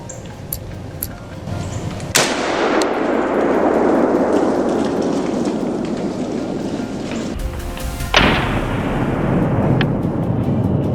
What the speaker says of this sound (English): The gunshot echoes, sending the herd scattering in panic